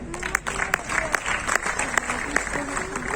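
Applause from an audience at a business seminar, steady and moderately loud with a few sharper claps, while a voice carries on over it.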